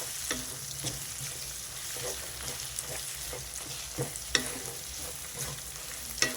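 Egg pieces crisping in oil in a pan, making a steady close sizzle broken by a few spatula scrapes and knocks against the pan, with no voices.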